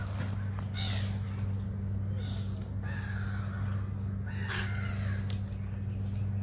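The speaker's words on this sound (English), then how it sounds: "And these blackbirds here, they are the crows." Crows caw in the distance near water, several faint scattered calls over a steady low mechanical hum, with occasional quiet noise in between.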